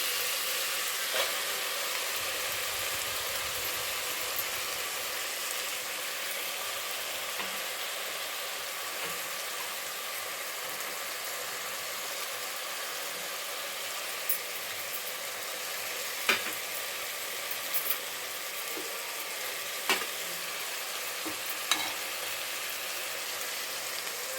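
Ground masala frying in a pan while being stirred for pulav, a soft continuous sizzle with occasional sharp clicks of the spoon against the pan, no voices.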